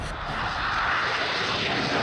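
A Tejas fighter jet flies during the Tarang Shakti 2024 air exercise, producing a loud, steady, broadband engine roar that fills the whole stretch without a break.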